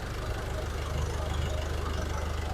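The diesel engine of a manual Nissan Terra seven-seat SUV, warm and idling with a steady low rumble and a faint rhythmic knock, close and continuous.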